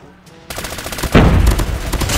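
Rapid automatic fire from an M13 rifle in a mobile shooter game, a loud close burst of shots starting abruptly and continuing to the end.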